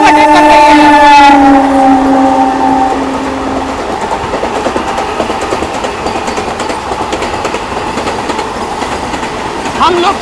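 The 22415 Varanasi–New Delhi Vande Bharat Express overtakes on a parallel line, passing close and loud. A strong horn blast opens, then a continuous heavy rumble of wheels and rushing air follows.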